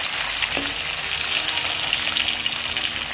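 Onion, green chili and curry leaves fry in hot oil for Mangalorean-style chicken sukha. A loud, steady sizzle runs without a break, with a brief stir near the start and no talking.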